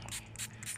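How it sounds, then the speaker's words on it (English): Soapy water is sprayed from a trigger bottle onto a patched tire to check for leaks: three quick, faint, close hissing squirts in an even rhythm over a low steady hum. "So I'm gonna spray some soapy water"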